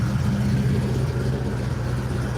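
A car engine idles with a steady, even low exhaust rumble that holds constant at close range without revving.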